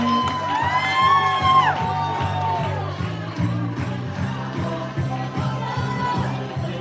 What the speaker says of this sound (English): Somebody make some noise for your wonderful host, Free Doc.